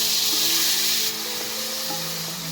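Chopped tomatoes fry in hot oil with bay leaves and cumin, giving a steady close hiss and sizzle that softens slightly halfway through, heard alone with no talking.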